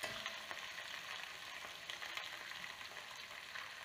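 Meat browning in a frying pan, a steady close sizzle and crackle of frying with faint stirring, continuous and alone without voices.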